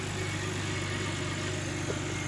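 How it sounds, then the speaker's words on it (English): A Toyota Camry engine idles steadily at close range, a smooth even hum with a faint rhythmic belt or pulley whir and no revving, with no voices over it. "As you can see, engine sounds perfect"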